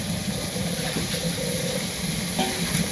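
Spices and chicken pieces sizzle as they sauté for biryani in a pot over a clay stove in the village, a steady, close frying hiss with faint stirring scrapes and no talk.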